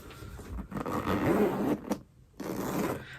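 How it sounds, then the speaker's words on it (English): A zipper on a Louis Vuitton Speedy B 30 handbag is drawn along in a steady, close rasping scrape that runs about two seconds, then pauses briefly before a second short pull. "it's not buttery smooth zipper, but it's not hard to zip up either"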